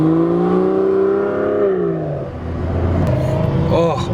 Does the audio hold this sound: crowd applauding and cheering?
no